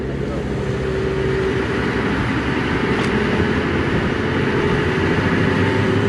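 A boat's engine runs loud and close in a steady, unbroken drone with a rough low rumble throughout, heard during a test boarding of a boat being handed over in Japan.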